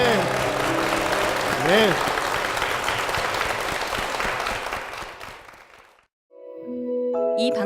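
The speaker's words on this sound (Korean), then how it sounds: "주께 영광의 박수를 드리겠습니다" Church congregation applauding after a hymn at Eden Church, a broad wash of clapping mixed with lingering music and a brief spoken word, fading out near the end before a soft piano resumes.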